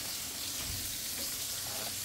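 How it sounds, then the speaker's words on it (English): Sausage frying in a pan for biscuits and gravy gives a steady, soft, continuous sizzle, low in level, that crackles evenly for about two seconds with no talking. "It's frying away."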